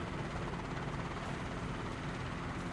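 Helicopter rotor in a flight simulator game, a steady, loud, continuous thrumming drone with an even pulsing beat and no pauses or voices.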